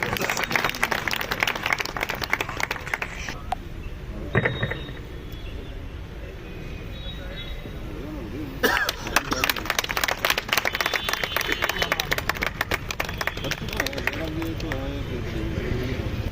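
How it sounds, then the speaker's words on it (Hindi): Audience at a local political gathering clapping, bursts of crowd applause that drop away mid-clip, then return as rapid, dense clapping with voices talking throughout. "तालियां में कंजूसी मत करो, ताली पूरी बजाओ।"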